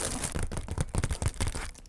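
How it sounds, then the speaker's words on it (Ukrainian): A plastic packet holding a fidget board is torn open by hand, giving a short burst of close crinkling and ripping with no talking. "давайте відкриємо пакетик з фіджетбордом"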